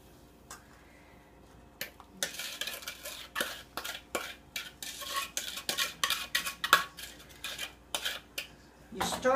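A utensil scrapes and clinks rhythmically against a pot as sugar is stirred into boiling dandelion jelly, a quick run of sharp metallic taps close by after a quiet start.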